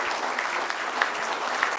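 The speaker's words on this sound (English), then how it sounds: "Let us give a round of applause to these distinguished circuit court judges" Brief, fairly faint applause from an audience honoring circuit court judges at a formal ceremony, an even wash of clapping with a few sharper claps standing out.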